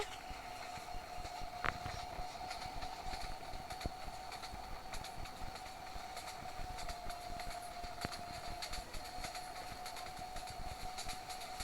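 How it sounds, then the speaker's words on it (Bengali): Continuous rail rumble from a fast-moving train in a Bangladesh train simulator game, steady and unbroken for the whole stretch with a faint sustained tone, no voices. "ট্রেনটি এখন অনেক স্পিডে চলছে"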